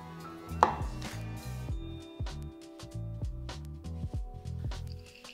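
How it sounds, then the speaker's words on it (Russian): A Samura knife chops a tomato on a board in a steady series of sharp, close thuds, about a dozen cuts with brief pauses and no talking. "Мы почистили авокадо, теперь нам надо немного томата порезать."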